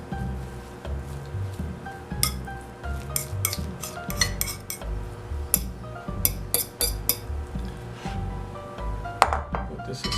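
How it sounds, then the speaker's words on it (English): Tart dough ingredients stirred in a bowl with a metal utensil, giving irregular clinks and scrapes against the dish in an uneven rhythm, close and moderately loud. "stir this up till we get it all blended in so we can make a ball."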